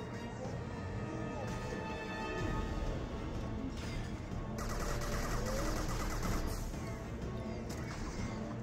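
Dense, continuous rapid gunfire and crashing blasts in Mass Effect 2's final suicide mission, loud and chaotic with no pauses.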